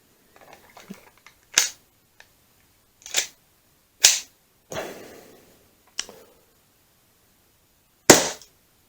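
Six sharp gas blowback shots from a WE Browning Hi-Power MK3 airsoft pistol on green gas, fired over a chronograph, each a loud close crack with slide clack, spaced about a second or more apart.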